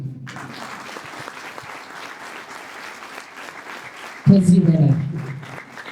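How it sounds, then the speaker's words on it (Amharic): Audience applause at a school celebration, a burst of clapping that starts abruptly and fades, preceded by someone speaking to the crowd. "አጨብጭቡ እንጂ"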